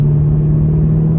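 A turbocharged car fitted with a Corsa Extreme Plus catback exhaust runs at light throttle, giving a loud, steady low drone that holds an even, unbroken tone throughout.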